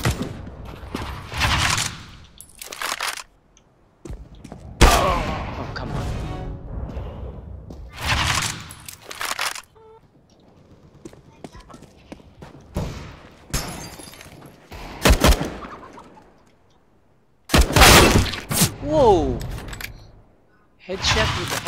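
Handgun shots in Counter-Strike Global Offensive: bursts of sharp, loud pistol fire scattered irregularly across the round, mixed with impacts and game effects, with quieter gaps between.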